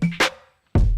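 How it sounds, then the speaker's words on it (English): Two short percussion samples from a drum pattern in a remix: a quick pitched knock followed by a bright hit, a brief gap, then a heavier low thump, close and dry. "Then I have two percussion sounds"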